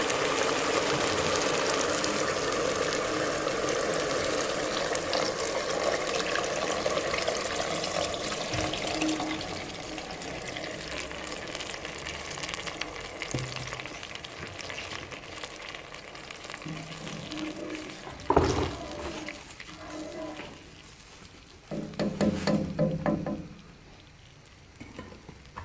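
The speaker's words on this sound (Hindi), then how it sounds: "अब इसमें सब्जियों की यखनी जो अलग करके रखी थी वो डाल दें।" Vegetable stock goes into a pan of softened tomato masala for a vegetable kofta curry, first with a loud hissing rush, then settling into quieter steady bubbling and sizzling. Near the end there are a few sharp clinks and stirring sounds.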